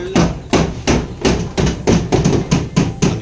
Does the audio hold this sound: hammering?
yes